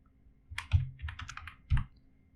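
Data being typed on a computer keyboard: short bursts of close, crisp key clicks in two clusters with a pause between, heavier thumps like enter or space presses, on a quiet background without speech.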